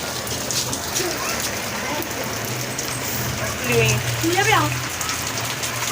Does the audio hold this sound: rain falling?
yes